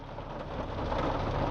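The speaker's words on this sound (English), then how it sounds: "It's raining" Steady rain falls outdoors as a dense, even hiss of broadband noise that swells slightly and holds without a break.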